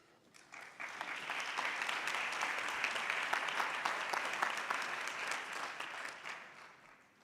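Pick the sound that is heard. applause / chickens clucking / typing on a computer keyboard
applause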